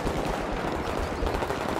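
Dense, continuous rapid gunfire in Battlefield 3, machine-gun bursts blending into a loud crackling roar with no pauses.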